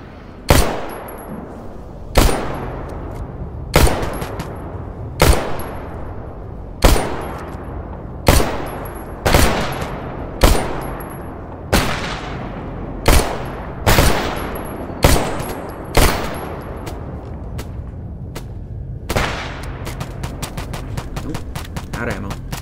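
Enemy sniper rifle fire in S.T.A.L.K.E.R. GAMMA: a dozen sharp, loud, echoing shots at roughly two-second intervals, closing with a rapid burst of fainter reports.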